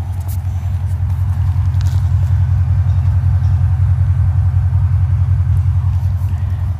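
A modified Mercedes CL550 with its resonator removed and one-chamber mufflers fitted rumbles from the exhaust, a loud, deep, steady idle burble close by, with no talk.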